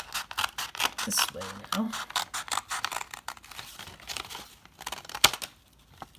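Scissors snip through folded paper to shape an egg, giving a run of crisp cuts and crinkling paper handling, with a voice talking briefly over the sound.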